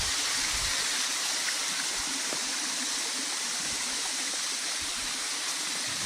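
A woodland stream runs low after little rain, giving a continuous close hiss and gurgle of flowing water that stays steady and alone, with no talk.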